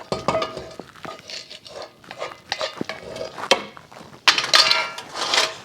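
Pot being set into a thermal cooker and locked in place: a run of clanks, scrapes and metallic clinks, close and uneven, with a sharper cluster of knocks near the end and no speech.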